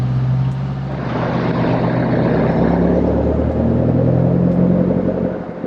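A car driving onto a beach in Cape Le Grand National Park near Esperance, a steady low engine rumble with tyre and wind noise, close and continuous.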